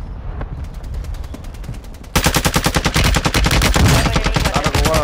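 Rapid automatic gunfire in Call of Duty in fast, even bursts, faint at first and then suddenly much louder and closer, continuing without a break.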